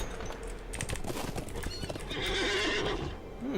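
Hooves of a horse mount in Lord of the Rings Online clip-clop steadily at close range, then the horse whinnies loudly, with a brief neigh trailing off near the end.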